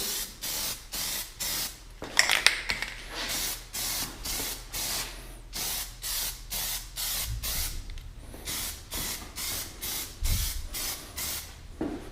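Spray can applying a very light, dusty first coat of dip, heard as rhythmic short hissing bursts repeated about once per second, close and fairly loud, with brief pauses between.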